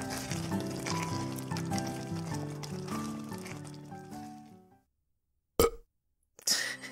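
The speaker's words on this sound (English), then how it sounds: "The fucking burp." One long, loud, drawn-out burp with a wavering, rumbling pitch, fading into silence and followed by two short, sharp bursts of sound.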